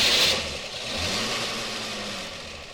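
A Studebaker Wagonaire's engine is started with the ignition key, catching with a burst and then settling into a steady, fairly close running rumble.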